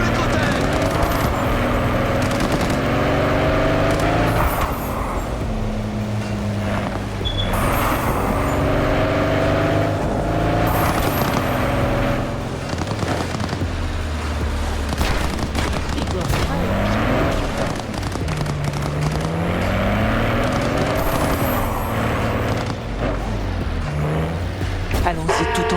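Car racing through a chase in Cyberpunk 2077 while under attack, a steady engine roar running throughout with bursts of gunfire and impacts, and a voice talking over it.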